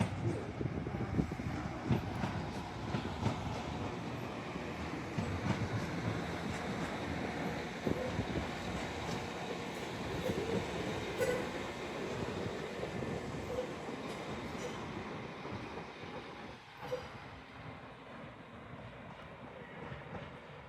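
A Class 195 diesel train rumbles past close by at Manchester Piccadilly for about twenty seconds, a loud steady roar with faint clickety-clack of wheels, no voices.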